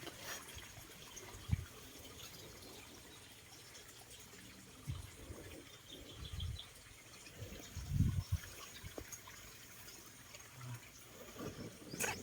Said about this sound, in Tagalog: Nadaan na yung tubig dyan.